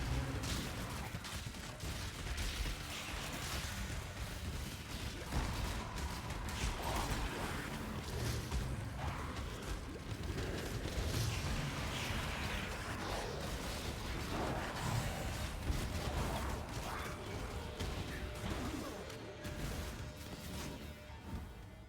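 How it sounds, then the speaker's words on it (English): Path of Exile gameplay explosions and enemies popping, with dense overlapping crunchy bursts, crashes and mechanical clatter piling up in a loud, continuous barrage of combat effects. "Path of Exile has very good explosion, like enemies popping sound effects."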